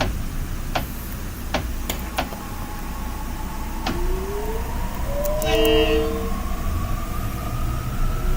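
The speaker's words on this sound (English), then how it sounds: "This is the train to Stanford." A video game train rolls along steadily with rising and falling electric motor whine, sharp clicks and a brief tonal chime mixed over a continuous rumble, close and fairly loud with no talking.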